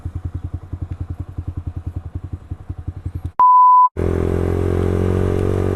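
Yamaha Xabre 150cc motorcycle with a non-standard aftermarket exhaust idling in close, even thumping pulses, then cut off by a sharp steady beep before a louder continuous roar takes over.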